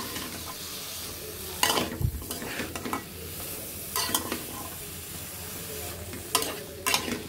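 Prawns and papaya sizzle steadily in a hot pan as a spatula stirs them, with several louder scraping clatters against the metal over the constant frying hiss.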